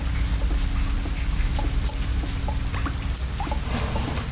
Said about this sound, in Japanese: ただ雨降ってるぞ